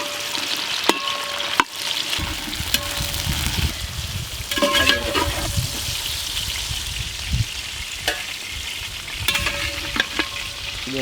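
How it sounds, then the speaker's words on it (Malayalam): Okra fries and sizzles in coconut oil for a Kerala sambar, a continuous crackling hiss with repeated scraping clicks of a spoon stirring against the pan, close and steady. "വെണ്ടയ്ക്ക വണക്കിയെടുക്കല്ലേ."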